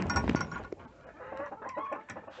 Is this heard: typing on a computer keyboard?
no